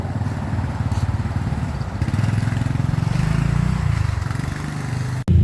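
A Honda Wave110i with a suspected faulty fuel injector idles roughly in a fast, uneven putter, struggles to rise when revved, then dips out briefly before catching again, loud and close.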